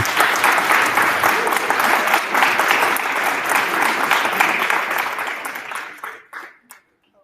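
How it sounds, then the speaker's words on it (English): Audience at a high school STEM capstone presentation applauding, loud sustained clapping that fades out and stops near the end. "let's give another big round of applause to all of our juniors and their projects"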